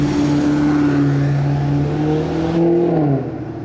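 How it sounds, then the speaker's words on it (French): A sports car engine on a track drones loud and near with a sustained, slowly rising rev, then the note dips and the roar falls away at the end. "Il freine en accélérant ou il y a un problème là?"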